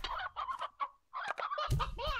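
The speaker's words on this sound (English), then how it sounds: "Chicken, chicken, chicken. They lay eggs too." Cartoonish chickens cluck in the Slime Rancher video game, a series of short, busy fowl calls in bursts with a brief gap midway, fairly close and clear with no talk over them.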